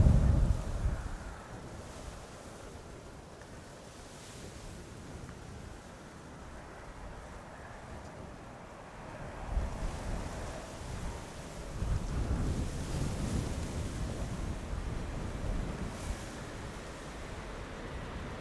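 Strong crosswind gusts across the runway at Amsterdam Schiphol airport as a KLM flight lands, a continuous broad roar that swells and eases, heavier in the second half.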